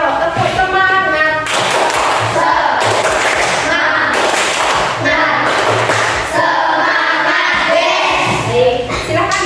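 Rhythmic 'tepuk semangat' chant-clapping by an elementary class, loud, patterned bursts of hand claps repeating through the room, mixed with children's voices calling along.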